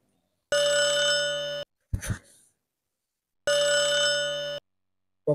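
A telephone bell rings in two loud, steady bursts of about a second each, with a short breathy vocal sound between them, in a North Karnataka comedy stage show.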